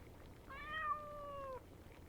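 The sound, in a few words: orange cat meowing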